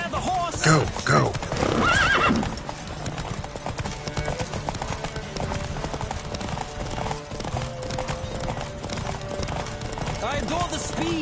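Horses gallop in a race in The Witcher 3, with steady clip-clop hoofbeats running throughout and sharp neighs and whinnies early on, close and loud.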